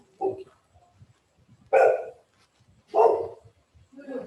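A dog barks several times in a quiet room, the barks spaced irregularly with near silence between, two of them loud and close.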